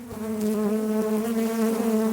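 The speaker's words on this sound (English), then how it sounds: "I'm gonna let these bees calm down a little bit" A dense, steady buzzing drone of many honey bees around an open hive in late winter, close and continuous with no talking.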